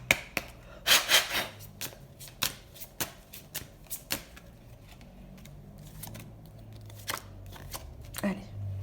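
Tarot cards shuffled by hand at close range, crisp riffling bursts and sharp card slaps and taps in an uneven rhythm, with a voice speaking quietly at times between the sounds.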